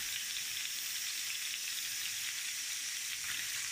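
Oxtail pieces browning in hot oil in a frying pan give off a steady, even sizzle throughout, with no voices.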